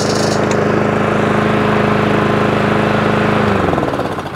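A Honda HRX467 lawn mower engine runs loudly and steadily up close with a throbbing rhythm, then drops in speed near the end.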